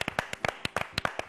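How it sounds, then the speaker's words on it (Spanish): Scattered hands clap at a gathering honouring a foundation, a dozen crisp, uneven claps in quick succession from a small group nearby. "gracias, gracias y aplausos para Ánfora"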